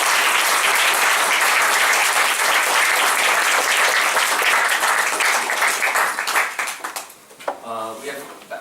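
An audience applauds a guest speaker at an evening lecture event, with dense sustained clapping that fades out toward the end as a voice starts talking.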